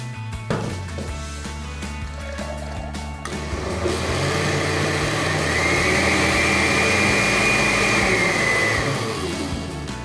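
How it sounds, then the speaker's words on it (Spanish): A blender whirs through boiled water, vegetables and protein, starting with a few short clattering pulses before settling into a loud, steady motor whine that holds for several seconds. "nuevamente lo podemos pasar a la licuadora"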